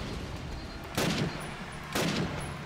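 Two loud, sharp gunshot blasts about a second apart fire in the Call of Duty United Offensive multiplayer match on the Foy map, each with a short echoing tail over faint background ambience.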